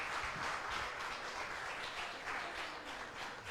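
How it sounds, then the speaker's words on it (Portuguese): A church congregation applauds steadily, a dense wash of many hands clapping that holds at an even level throughout, heard from within the room. "Você pode aplaudir Jesus Cristo?"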